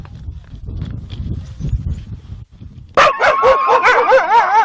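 Greenland sled dogs bark and howl together outdoors in the snowy Arctic, a loud chorus of overlapping barks and wavering howls breaking out suddenly after quieter shuffling and movement sounds.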